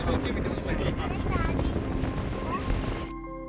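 Strong wind blasts across the top of a watch tower in Silent Valley rainforest, Attappadi, roaring loudly against the microphone with faint voices beneath, then dropping off abruptly near the end.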